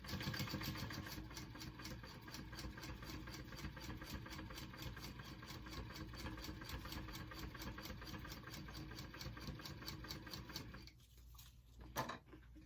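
Steady mechanical whir of a sewing machine stitching a second seam line on a mini backpack, continuous and close for about eleven seconds before stopping, followed by a brief clunk.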